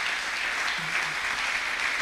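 A church congregation applauds during a French-language worship service, a soft, brief wash of clapping heard from a distance.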